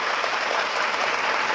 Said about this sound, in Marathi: म्हणून एकदा जोरदार टाळ्या होत्या आपल्या मायबापासाठी.